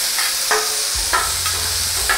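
Pepper steak meat sizzles loudly on a hot Blackstone griddle at about 500 degrees, a constant close hiss with periodic scraping spatula strokes cutting through.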